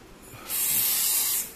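WD-40 sprayed from an aerosol can onto a squeaky door hinge: one near, sharp hiss lasting about a second, starting abruptly and fading quickly, with no talk.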